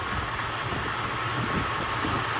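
The original engine of a 1999 Jeep Cherokee XJ runs at a steady idle, a dense continuous rumble with even, loud broadband noise close by and no voices.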